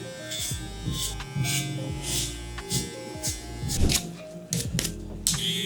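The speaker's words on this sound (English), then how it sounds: "We'll first start with the clipper right here, lever closed." Electric hair clippers buzzing close up while cutting a bald fade at a barber's, a steady hum broken by repeated short strokes and brief clicks, with no talking.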